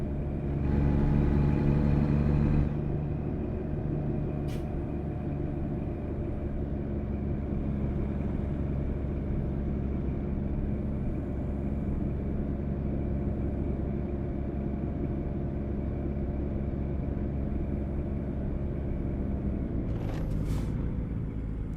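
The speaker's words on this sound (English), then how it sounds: "I guess it's got a nicer engine noise" A semi truck's engine rumbles steadily in American Truck Simulator on the Colorado map, a deep continuous drone with a brief louder surge at the start and a short hiss near the end.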